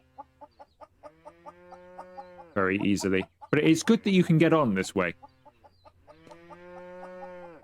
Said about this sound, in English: She does cluck a lot.